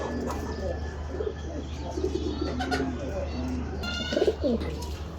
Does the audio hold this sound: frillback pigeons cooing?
yes